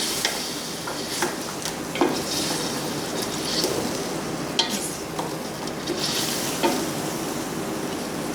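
Ground dry-roasted coriander, fennel and cumin sizzle with onions in a pan, with a steady soft crackle, occasional scrapes and taps of stirring, and no talking.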